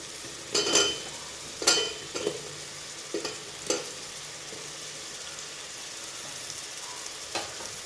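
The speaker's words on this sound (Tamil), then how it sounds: "முருங்கைக்காய், வாழைக்காய், உருளைக்கிழங்கு இது எல்லாத்தையும் இதில் போடுவோம்" Raw banana, drumstick pieces and potato tumble into hot frying masala for a fish curry, bringing a few sharp sizzling bursts and stirring scrapes, then a quieter steady fry with occasional clinks.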